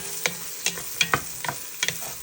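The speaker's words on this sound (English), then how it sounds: "Get a little sear on those smoked sausages." Smoked sausages sear in a pan with a steady sizzle, broken by a regular series of sharp scraping stirs about every half second, close by with no talking.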